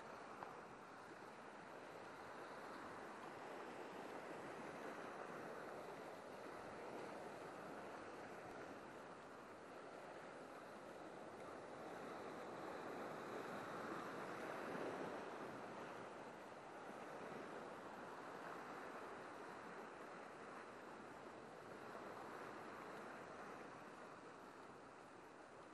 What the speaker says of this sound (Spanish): es una gozada ver el mar así, tan bravo